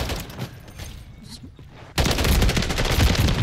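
A Holger 556 assault rifle fires in a video game: a few spaced shots and then a loud, dense automatic burst at about ten rounds per second, close and sharp, with no talk.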